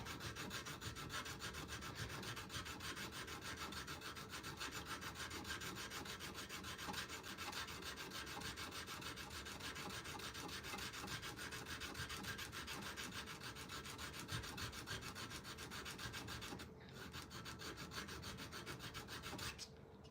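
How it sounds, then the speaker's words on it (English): A wooden knife handle is hand-sanded with sandpaper, a steady close rasping rub that runs continuously with only a brief pause near the end and no talking. "I do like this sandpaper though."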